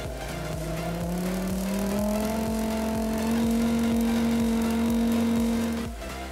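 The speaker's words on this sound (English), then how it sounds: "when we turn the potentiometer, the motor speed increases and decreases depending on our control movements" A small DC motor driven through an L298N driver board, its speed adjusted with a potentiometer, gives a steady electric whine that climbs in pitch as it speeds up. Faint regular ticking runs underneath, and no one speaks.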